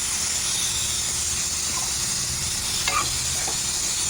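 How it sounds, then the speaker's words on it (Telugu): Food frying steadily in a pan with a constant close sizzle and hiss, a few faint stirring clicks near the end, no talking. "ఇప్పుడు దీన్ని మనం బాగా ఫ్రై చేసుకుందాము."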